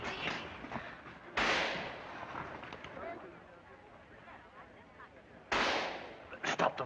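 Gunfire in a film scene, with sharp loud bursts at two points standing above a noisy, rumbling soundtrack of battle and crowd commotion, with people talking in the background.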